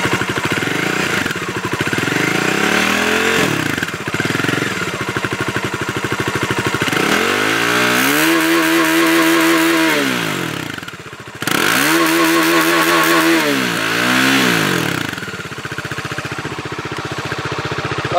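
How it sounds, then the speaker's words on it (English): A 2019 Bajaj Dominar 400 motorcycle engine revs hard in repeated long pulls through a dual-barrel exhaust, its pitch climbing and falling, loud and close with a rough, throbbing exhaust note. "So dual barrel definitely justifies the sound of this motorcycle."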